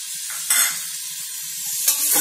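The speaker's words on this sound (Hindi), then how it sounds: "इसे भी 2-3 बार मिक्स करना है और चलाना है" Carrots and peas sizzle in a hot pan for khichdi while a spoon scrapes and stirs them a few times, close up and without any talking.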